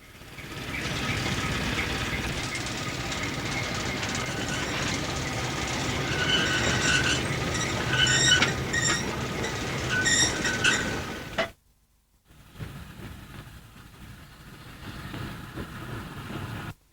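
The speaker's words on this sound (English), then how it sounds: "A little diesel shunter came on duty." A little diesel shunter locomotive rolls along the rails with a steady rumble, rhythmic wheel clatter and high squeals from the wheels. The sound then drops to near silence and comes back as a quieter, distant rumble.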